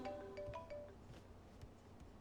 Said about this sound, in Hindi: देखो फोन आ रहा है।